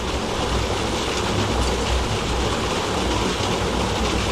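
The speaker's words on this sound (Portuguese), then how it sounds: "O barulho aqui é a saída d'água aqui" Rushing water from an outlet at a fishing spot, a steady broadband roar that stays loud and constant throughout with no break and no voices.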